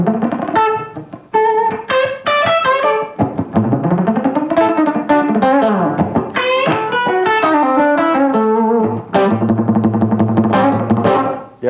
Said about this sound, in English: a lot of times I'll do a fast line muted